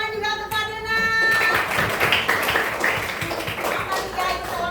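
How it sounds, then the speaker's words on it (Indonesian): A classroom of students claps for a classmate, a dense burst of overlapping claps following an early tonal ringing and continuing to the end, with some background voices mixed in. "tepuk tangan juga untuk Fadil, Nak"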